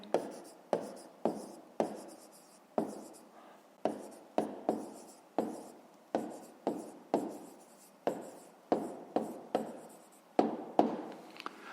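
Pen writing an answer in a notebook for a fifth-grade math exercise, close, crisp scratchy strokes in short repeated bursts with brief pauses between them, no talking.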